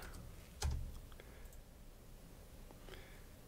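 Faint, sparse keystrokes on a computer keyboard, with a few quiet clicks and one slightly louder tap early on, against a low background hum.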